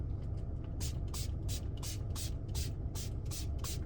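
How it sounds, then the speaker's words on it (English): Repeated quick spritzes of soapy solution from a spray bottle, about a dozen short hissing bursts in a steady rhythm over a low background rumble. "but I am spraying this sucker down."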